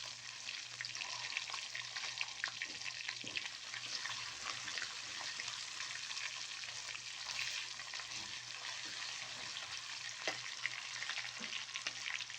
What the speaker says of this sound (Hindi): बस लहसुन को अब यहाँ पे थोड़ा सा हम फ्राई कर लेंगे।